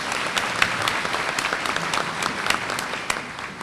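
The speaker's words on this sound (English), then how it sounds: "A warm round of applause for Miss Jana Williams." Warm audience applause fills a pageant queen's luncheon and fashion show, a steady, close wash of many hands clapping with no voices over it.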